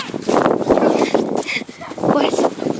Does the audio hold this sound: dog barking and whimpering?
yes